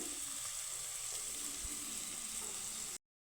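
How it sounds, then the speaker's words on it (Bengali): Onion with salt frying in a pan, a steady close hiss of sizzling oil that runs unbroken for about three seconds and then cuts off abruptly. "পেঁয়াজটাকে আমি হালকা করে ভেজে নিয়েছি"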